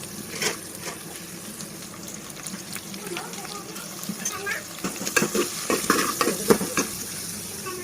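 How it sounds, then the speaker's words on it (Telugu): Onions and green chilies fry in a pan, a faint sizzle under clinks and stirring scrapes that grow busier and louder toward the end. "పచ్చికాయలు ఫ్రై అయిన తర్వాత ఉల్లిపాయలు వేసుకోవాలి."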